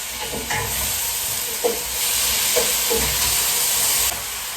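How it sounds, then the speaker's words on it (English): Tomatoes stirred while frying in a pan at home, a loud continuous sizzle with spoon scrapes and knocks recurring at irregular intervals, close by, with no talk. "we'll add our tomatoes. Then stir."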